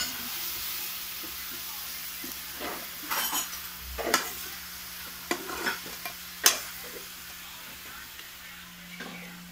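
Frog adobo in coconut milk being stirred in a pan, with a soft steady simmering hiss and a few sharp scrapes and clinks from the utensil, close and fairly quiet, with no talking.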